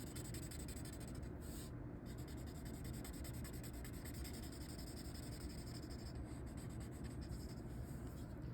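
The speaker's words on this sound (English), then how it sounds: "And then I'm gonna add some shading to it." Pencil shading a dragon drawing, a faint continuous scratchy rubbing of graphite on paper, steady and close throughout with brief stroke changes, no voices.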